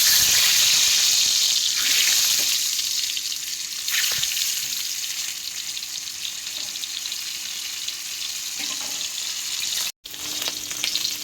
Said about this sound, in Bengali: তেল গরম হয়ে গেছে, ডিমগুলো ভেজে নেব।